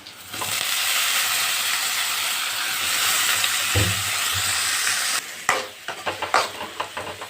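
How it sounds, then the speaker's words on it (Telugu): Brinjal pieces frying with curry leaves in a hot pan give a loud, steady sizzle that runs alone for about five seconds, then breaks into scraping and stirring clatter. "ఇప్పుడు రెండు రెబ్బలు కరివేపాకు వేసి ఫ్రై చేద్దాం"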